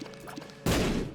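A bomb detonating in The Binding of Isaac, one sudden loud burst that cuts in after a quiet stretch of faint game music and decays over a fraction of a second.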